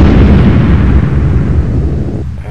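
A loud, sustained explosive roar of a control tower blowing up under rocket fire in the EF2000 Eurofighter Typhoon flight game, a dense rumbling blast that holds steady for a couple of seconds before starting to ebb.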